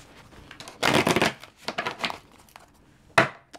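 Tarot cards shuffled in several quick riffling bursts, crisp papery flutters separated by short pauses, close and clear with no voice over them.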